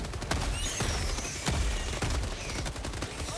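Gunfire in the video game Helldivers 2, a run of sharp, loud blasts spaced roughly half a second apart over a noisy battle backdrop, the shots fired one after another.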